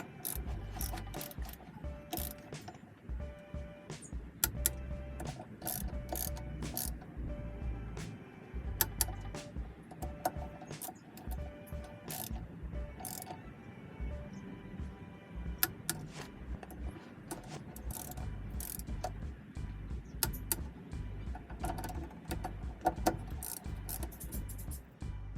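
Torque wrench ratcheting and clicking as it tightens the rear differential cover bolts on a 2013 Chevy Silverado 1500, repeated sharp clicks over a steady background hum, close by with no talking.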